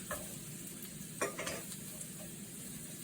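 Steady low sizzle of garlic frying in a pan for chicken carbonara, with a few soft clinks and scrapes of stirring; quiet and close, no voices.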